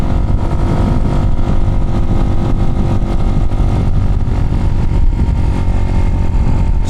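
A Chinese motorcycle engine drones loud and steady from the rider's position while riding in traffic, a continuous close engine roar with wind noise.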